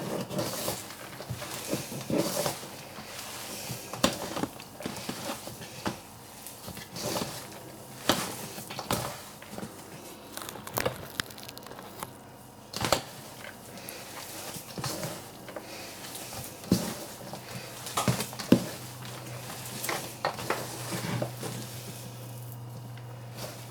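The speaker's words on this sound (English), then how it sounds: "basically we're just gonna mix all these ingredients, make them into like a nice dough" Hands knead a dough of fine rice and mince, giving soft, wet squishing and slapping sounds in an irregular rhythm, close up and moderately loud.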